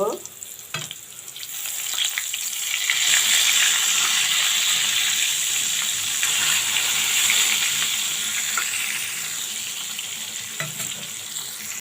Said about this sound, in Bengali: বেগুন লাল করে ওই পিঠটা ভেজে নেব